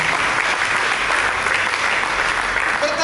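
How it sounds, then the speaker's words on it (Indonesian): A church congregation applauds together during a sermon, a dense, steady wash of clapping that fills the full few seconds with no pause. "Mari kita berikan tepuk tangan bagi Yesus."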